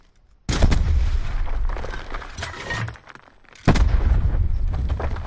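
Gunshots crack in a close-range training setting, two abrupt loud onsets each followed by a sustained rumbling burst, with a short quieter gap between them.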